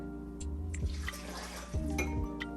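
Water poured into a blender jar holding cut limes for Brazilian lemonade, heard as a few short splashing pours with brief gaps between them.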